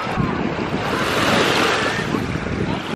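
Sea waves wash onto a beach at Ayia Napa, Cyprus, a loud continuous surf roar with wind buffeting the microphone.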